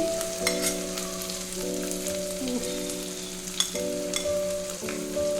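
Bay leaf, onion and garlic fry in hot oil with a continuous close sizzle and crackle, while a steady tonal hum sits in the background.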